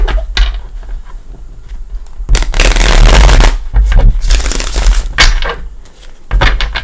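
A Crystal Tarot deck is shuffled by hand in loud bursts of riffling and card-slapping, with brief pauses between the bursts.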